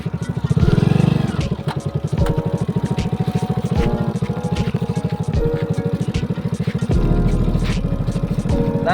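A motorcycle ridden in a timed challenge holds a steady, close engine drone with a buzzing mechanical tone, rising briefly early on and running continuously for the whole stretch.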